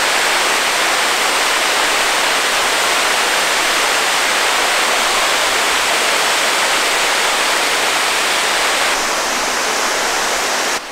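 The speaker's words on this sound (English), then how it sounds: "We are up here in the waterfall now." Close to a waterfall in Valle Verzasca at Sonogno, Switzerland, falling water gives off a loud, dense, unbroken roar that fills the whole stretch without pause, and no one speaks.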